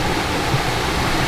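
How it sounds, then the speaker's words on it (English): Small waterfall cascading along a creek in the Shawnee National Forest, a steady, broad rush of falling water, close and constant with no voices. "got us a nice waterfall, little cascade along the creek"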